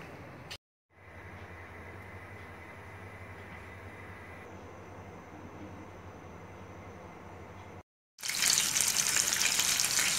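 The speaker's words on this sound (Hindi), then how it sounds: "साथ में मैंने चपल कबाब फ्राई करना शुरू कर दिए हैं" Chapli kebabs frying in oil, a steady, even sizzle that drops out briefly twice, then swells into a much louder, brighter crackle near the end.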